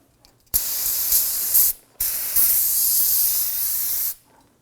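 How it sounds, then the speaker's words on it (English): An aerosol can of spray solvent sprays onto a Volvo XC90 front brake hub in two long hissing bursts, loud and close, separated by a brief pause, with near silence before and after. "you can use some spray solvent and clean all that up"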